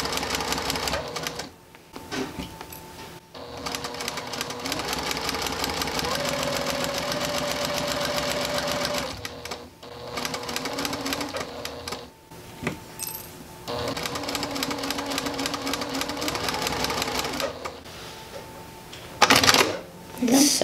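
Sewing machine running steadily while stitching a quilted Christmas stocking, a continuous close mechanical whir with brief pauses and stops between seams.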